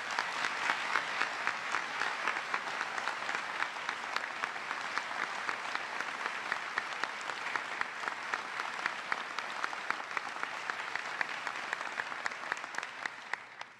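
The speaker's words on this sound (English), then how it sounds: "Please give them another round of applause." A large audience gives sustained applause for Medal of Honor recipients, a dense even wash of many hands clapping at a distance, steady for the whole stretch and easing slightly at the end.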